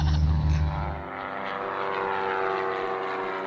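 A Cessna 177 Cardinal propeller airplane flies past. A loud, low engine drone begins close and then eases into a steady, slightly fainter hum with propeller harmonics. No one speaks.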